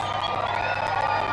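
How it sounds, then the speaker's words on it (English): Crowd at a total solar eclipse, a dense, bright roar of excited cheering and whoops from many people around, loud and unbroken for a brief moment. "Crowd's getting excited."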